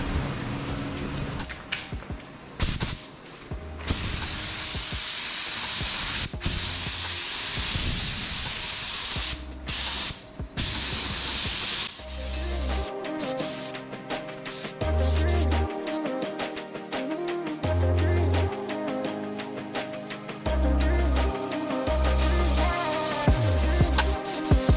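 Bursts of hissing spray paint from a spray gun painting a custom front bumper on a Nissan S15 Silvia fill the first half, then intermittent spraying continues over steady background noise with low thumps.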